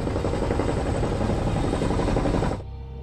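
A steady, loud helicopter rotor chop and engine roar from an animated production runs continuously, then cuts off abruptly near the end.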